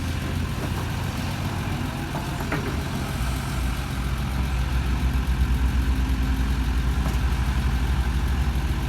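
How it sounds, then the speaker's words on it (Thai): A SANY SY215c excavator diesel engine idles without throttle, a steady low rumble near and fairly loud, with a faint clank or two over the drone and no speech. "ขับไม่เร่งเครื่องครับ"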